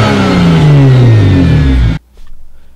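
A tuned BMW 335i with charge pipes accelerates hard and close, the engine note climbing steadily through a loud pull before cutting off abruptly, followed by brief crackles and pops.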